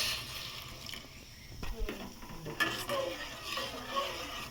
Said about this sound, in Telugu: కొంచెం వాటర్ పోసి కరిగించేద్దాం.